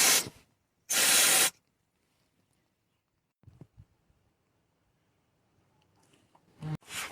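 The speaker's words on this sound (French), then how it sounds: "je vais mettre un coup de nettoyant frein" Brake cleaner aerosol sprayed onto the drain plug of a Citroën AX during a front-right driveshaft job, heard as two short loud hissing bursts, followed by quiet workshop sounds and a few faint knocks.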